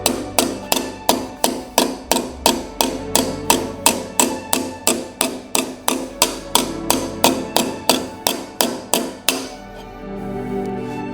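A hammer strikes a metal panel over and over, flattening and curving it for a Vauxhall Astra GTC VXR 4x4 conversion. Roughly two dozen loud, close, evenly paced metallic blows ring out before they stop, leaving a faint ringing.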